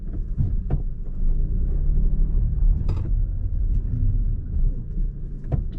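A car with worn-out, overheating rear brakes rumbles low and steadily while driving, broken by a few sharp, irregular clicks and scraping knocks from the brakes, with no talking.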